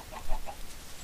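Clucking from a Minecraft chicken, a few short, soft clucks in quick succession over a low background hum, with no voices.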